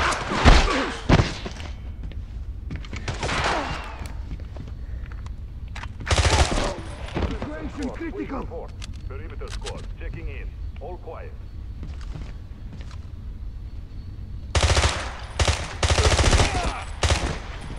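Gunfire in the video game 007 Blood Stone comes in loud bursts, with rapid volleys near the start, around the middle and near the end, separated by quieter stretches where a player talks.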